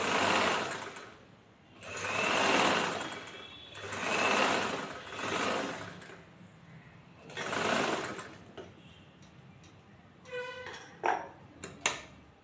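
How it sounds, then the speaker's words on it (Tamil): A sewing machine hems chudithar fabric in several runs of rapid, whirring stitching, each lasting a second or two with short pauses between. A few quick mechanical clicks and ticks follow at the end. "அப்படியே மடக்கி வச்சு நம்ம ஹெம்மிங் பண்ணிக்கலாம்."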